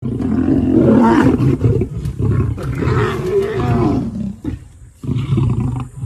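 A lion in South Sudan's Ruweng region roars loudly and close, a deep, rumbling roar sustained across several seconds with a couple of brief pauses and no talking.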